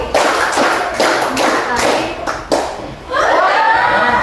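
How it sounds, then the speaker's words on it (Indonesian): High school students in a classroom clap their hands in short, loud bursts, several sharp collective claps spaced apart, followed by some chatter and light laughter toward the end. "Tepuk 5 kali."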